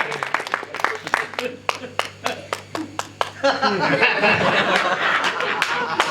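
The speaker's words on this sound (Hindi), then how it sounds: "ताली बजा दो, इनके सम्मान में जाओ" Audience at a Hindi poetry gathering (kavi sammelan) claps in honour of the host, a burst of sharp, irregular hand claps ringing out, then merging into denser applause mixed with laughter and chatter.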